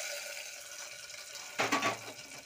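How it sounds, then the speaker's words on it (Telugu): Hot tempering (popu) poured into gongura dal gives a sudden short sizzling splash that flares up over a faint background hiss and dies away within about half a second. "ఇప్పుడు డైరెక్ట్గా ఈ పోపుని తీసుకెళ్ళి మనం పప్పులోకి యాడ్ చేసుకుందాం."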